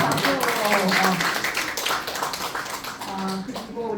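Audience applause at a pharmacists' association lecture, a burst of clapping from a seated group heard under a voice, tapering off and then picking up again briefly.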